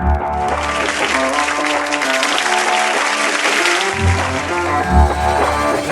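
Audience applauds at a Turkish digital media award ceremony as winners come on stage, with loud, sustained clapping and music playing underneath.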